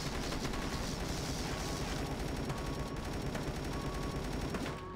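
Automatic turret fire in the zombie-defense game Dead Ahead: Zombie Warfare, a dense, steady stream of rapid shots running nearly the whole time, loud and continuous with game background sounds, no talking.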